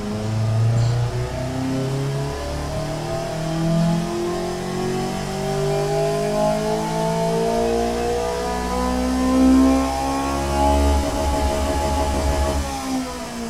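A rebuilt Kawasaki Z1R-TC motorcycle engine modelled in the Automation game revs steadily upward, its harmonics climbing and sagging near the top as valve float saps power. The engine note is loud and continuous throughout, with no talking.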